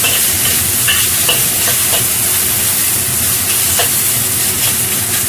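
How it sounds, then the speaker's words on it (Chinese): Vegetables and instant noodles stir-fried in a hot pan, a steady loud sizzle and frying crackle with scraping stir strokes running throughout, close up and alone with no talk. "炒香晒所有材料，再攞翻个公仔面去兜匀佢"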